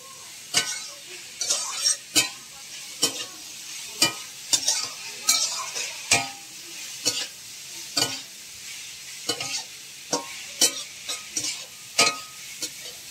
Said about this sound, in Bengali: লবণ দেওয়ার পর একটু ভালো করে নেড়ে চেড়ে নেব